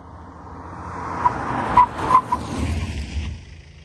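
A car brakes hard from speed during a brake test of drilled and grooved brakes, its tires giving short skidding squeals midway over a low road and engine rumble, fairly close, with no one talking.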